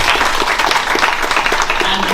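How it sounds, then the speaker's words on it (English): Audience applause at an African business gala ball, a steady broadband wash of clapping held for the whole short stretch at an even, fairly loud level. "Can we give her a round of applause?"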